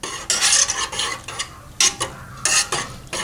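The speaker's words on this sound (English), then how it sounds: "Just keep stirring occasionally" Homemade laundry detergent mixture stirred in a pot, a series of scraping, swishing strokes in irregular bursts, fairly close and clear, with no voices.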